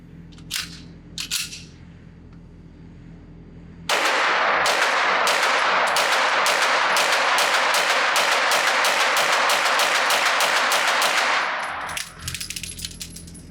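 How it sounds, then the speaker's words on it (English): A rifle fitted with an OSight X red dot fires a long rapid string of shots at an outdoor shooting range, sharp close cracks repeating steadily for several seconds after a couple of earlier isolated shots. "Let's put another magazine through this and a lot more rounds"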